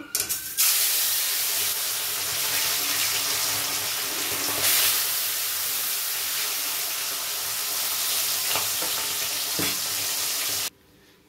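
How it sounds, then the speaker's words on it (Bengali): Tilapia fish frying in hot oil, a loud continuous sizzle and spatter with occasional sharper crackles, cutting off abruptly near the end. "ঝটপট আমরা এখন মাছটা আগে ভেজে নেব।"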